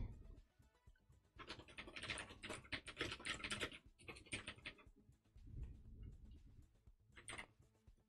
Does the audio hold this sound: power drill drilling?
no